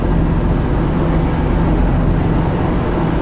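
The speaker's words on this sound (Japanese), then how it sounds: "エンジン音が変わった。" Steady low engine rumble of an Oki Kisen ferry idling in port before departure, a continuous deep drone that holds throughout with slight shifts in tone, no voices.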